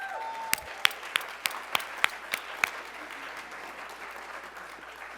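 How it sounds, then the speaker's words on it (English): Light applause rises from an audience honoring a Clarksburg High School group, a handful of sharp individual claps ringing out over a soft murmur before thinning out. "So if you all would help me clap it up for Clarksburg High School."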